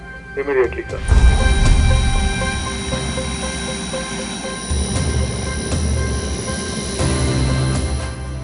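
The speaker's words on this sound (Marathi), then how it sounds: "हेलिकॉप्टरची हीच घरघर सीमेपलीकडच्या शत्रूच्या हृदयात धडकी भरवू शकते" A loud, steady helicopter roar with a droning whine that holds throughout, after a brief voice at the very start.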